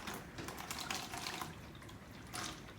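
Used motor oil from a 2009 Honda Civic oil change glugs and splashes as it is poured into an old oil container, a quiet, uneven liquid pour with bursts of splashing.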